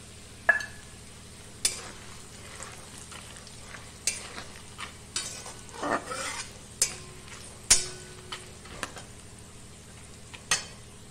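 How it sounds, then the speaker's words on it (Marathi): Peanuts stir-fried in hot oil in a pan for a thin poha chiwda snack. A spoon scrapes and clinks against the pan in spaced strokes over a low, steady sizzle, close up, with no talk. "त्याच्यानंतर हे शेंगदाणे हे सुद्धा यामध्ये घालून घ्यायचे"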